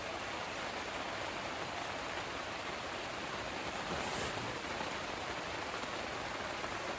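Steady rain falls on a backcountry campsite and tent, a dense, even hiss of drops that continues without pause and with no voices.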